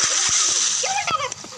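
Water splashing in a multiplayer Minecraft game, a busy bright rush of splashes and sloshing that fades after about a second, with a voice faintly underneath.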